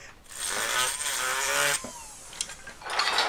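A mini whizzer power tool grinds at the hinge of a homemade Zippo-style lighter in a loud, close, high-pitched burst, then stops, followed by short scraping touches.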